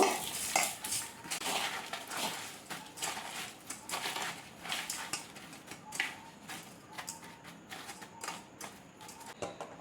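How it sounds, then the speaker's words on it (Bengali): Sugar being stirred into mango pieces in a bowl, with a steady run of clinking, scraping spoon-on-bowl taps and rustling strokes, close and moderately loud, no talking. "চিনিটা এর মধ্যে দিয়ে ভালো করে মাখিয়ে নেব"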